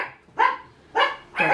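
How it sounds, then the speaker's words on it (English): A dog barks three times in quick succession, sharp and fairly close, each bark short, with quiet gaps between them. "Dog's barking."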